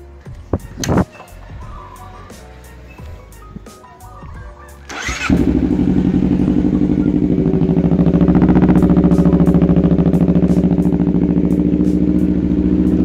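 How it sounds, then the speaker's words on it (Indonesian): A crashed Honda CBR250RR motorcycle has its engine started after some faint clicks, catching abruptly and then settling into a loud, steady, close idle. "coba sekarang kita langsung aja bakalan nyidupin ya"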